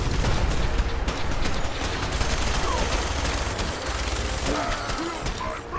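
Rapid bursts of gunfire rattle through a Fallout 4 firefight, loud and continuous with overlapping shots, while players chatter over the shooting.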